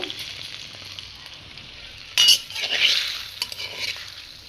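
Tomatoes cooking in a pan for tomato chutney, a soft steady sizzle with a few sharp clinks and scrapes of a utensil against the pan midway, close by and without talking.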